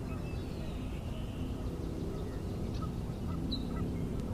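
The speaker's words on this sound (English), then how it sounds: "a couple ducks flying by." A couple of ducks fly past outdoors on a warm sunny day, their faint, distant quacks and honks rising briefly over a steady broadband background hiss.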